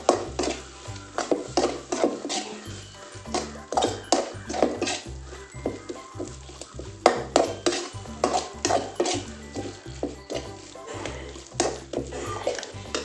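A spoon stirs chili powder into a sardine curry in a pan, producing close, rhythmic scraping and clinking strokes that repeat steadily throughout.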